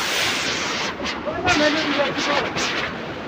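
A waterfall roaring continuously with wind, a dense broad rush close by while someone talks over it.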